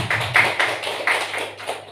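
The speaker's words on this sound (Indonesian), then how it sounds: "Tepuk tangan buat Bu Binda." Scattered handclaps from a classroom group applauding a teacher, sounding as a thin, uneven patter of separate claps close by, with no talking.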